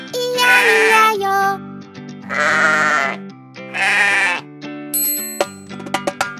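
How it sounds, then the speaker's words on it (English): Sheep bleating in a children's nursery rhyme song, three long sustained bleats, loud and close, separated by short gaps, followed by bell-like dings and bright plucked tones. "And on this farm he had a sheep"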